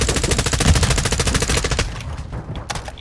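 Rapid automatic gunfire rattles loudly in Warzone DMZ, a dense fast burst for nearly two seconds that breaks off into scattered fainter shots.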